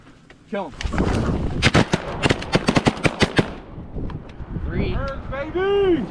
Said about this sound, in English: Did gun shoot that time, Eli?